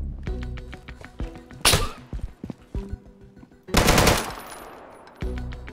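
Gunfire in the shooter game Deadside: rapid bursts of shots and heavy impacts in loose clusters, with two dense loud volleys standing out among sharp single reports, close and punchy with no talking.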